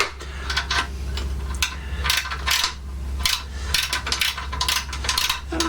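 Metallic clicks and light taps from tightening 7/16 bolts to fit an aftermarket mudguard on a Norton Commando motorcycle, an irregular series of close, sharp ticks over a low steady hum.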